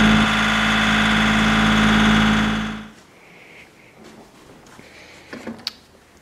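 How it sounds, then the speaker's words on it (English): A tractor engine runs loud and steady at idle while delivering a bathtub to a house's front steps, then cuts out abruptly after about three seconds, leaving quiet outdoor ambience with a few faint knocks. "Getting delivered by tractor to the front steps."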